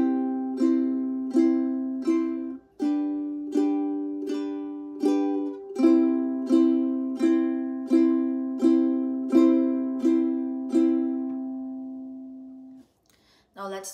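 Ukulele down strums ring out clearly and steadily, first a run of evenly spaced strums on one chord, then a change and a longer run of eight even strums, fading out at the end with no talking.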